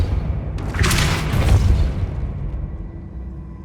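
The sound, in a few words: Depulso spell blast in Hogwarts Legacy video game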